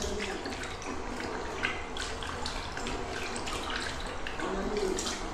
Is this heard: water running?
yes